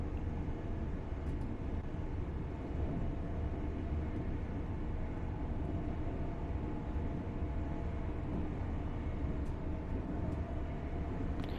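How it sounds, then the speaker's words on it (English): An LNER Azuma train in the Train Sim World 6 video game rumbles past with a low, steady, continuous roar of wheels and motors, faint and unbroken throughout with no talking. "LNER Azuma going by."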